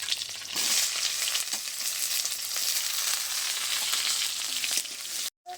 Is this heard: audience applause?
no